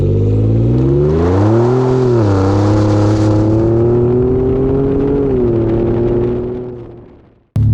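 An MBRP-exhausted Ford F-150 accelerates hard, its deep exhaust note climbing in pitch, dipping through a gear shift, rising again and shifting once more before the engine note fades and cuts off, loud and close with no talk.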